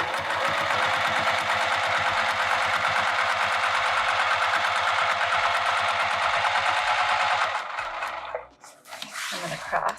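A sewing machine stitching a vinyl seam allowance at a 3.5 stitch length runs in a fast, steady, loud whir for about eight seconds, then stops with a few clicks and handling noises.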